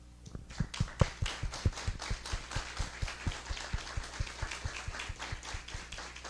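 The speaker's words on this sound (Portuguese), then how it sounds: "uma salva de palmas para todos vocês" A standing audience at an entrepreneurship month talk in Antônio Carlos applauds, settling into a steady rhythmic clap that keeps an even beat, moderately distant and without talk.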